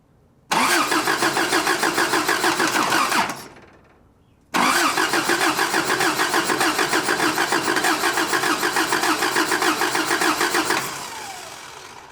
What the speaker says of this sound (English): I'm gonna crank it, and if this line shoots fuel all over the side of the motor, then most likely that mechanical pump works